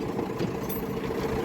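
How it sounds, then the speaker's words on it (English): A tractor engine runs steadily at idle with its PTO shaft turning under load, a continuous low mechanical drone with slight knocking vibration, fairly close and without speech. "The PTO is turning"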